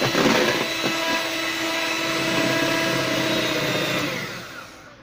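Electric mixer whipping cream for homemade ice cream, a loud continuous whirring motor drone with a steady whine, close and alone, fading down at the end.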